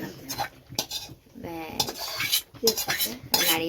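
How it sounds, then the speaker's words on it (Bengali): A metal spoon scrapes and clinks against a pan as egg khichuri with cauliflower, coriander leaves and fried spice paste is stirred from the bottom, giving repeated close scraping strokes with brief gaps. "তলা দিয়ে নাড়াও"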